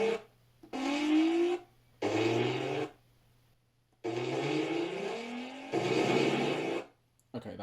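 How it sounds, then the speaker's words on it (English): Sampled Volkswagen VR6 engine sounds play as separate bursts of revving, with rising pitch sweeps and short silent gaps between them. "I've sampled some VR6 engine sounds and converted it to MIDI"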